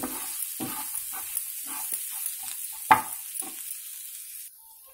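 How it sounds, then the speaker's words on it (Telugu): Fried egg is stirred into potatoes in a pan, with soft sizzling under scattered spoon scrapes and one louder clack, before the sound drops off at the end. "ఎగ్ వేగిన తర్వాత మనం ఇవి ఈ పొటాటోలో ఇలాగా కలిపేసుకోవాలి"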